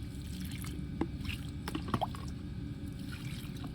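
Water is poured over newly planted sweet potato cuttings in soil, giving a quiet, steady wash of liquid with a few soft drips and splashes.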